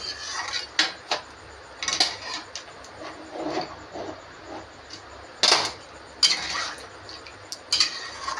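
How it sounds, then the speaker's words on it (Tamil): Egg curry (muttai kulambu) being stirred in a cooking pot, with a spoon scraping and clinking against the metal in irregular bursts, close and moderately loud, with no voices. "சேர்த்துட்டு நல்லா ஒரு கிண்டி விட்டுக்கலாம்."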